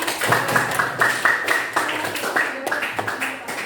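Students in a classroom clap their hands, a loose run of quick claps mixed with young voices chattering over the top.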